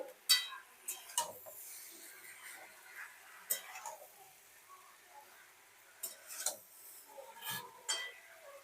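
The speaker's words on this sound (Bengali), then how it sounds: "এখন আমি ঢাকনাটা খুলে ভালোভাবে সবজিগুলো আবার নেড়ে নিচ্ছি।" Lid lifted off a cooking pot and vegetables stirred with a metal utensil for a dried-fish curry, giving scattered clinks and scrapes against the pot, moderately close, with quiet gaps between bursts.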